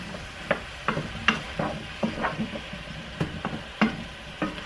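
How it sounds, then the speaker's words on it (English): Mushrooms and zucchini frying in a pan, a soft steady sizzle broken by repeated scraping clicks and taps of a utensil stirring them, close and fairly quiet, with no talking. "I'm going to toss that in and give it a stir."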